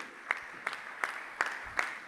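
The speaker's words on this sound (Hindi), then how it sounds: "जब तक वो स्टेज पर आए आप तालियां बजाते रहिए।" An audience at a Jain religious discourse gathering with Muni Pramansagar claps in unison as guests come onto the stage. Five evenly spaced, crisp claps sound over a quiet room background.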